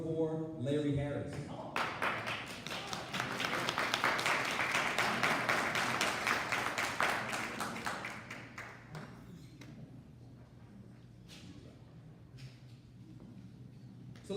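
Audience at a city candidate forum claps for the attending candidates, individual claps building into dense applause that fades after several seconds, with speech before and after.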